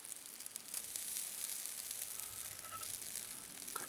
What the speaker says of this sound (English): kind of cook them there like that.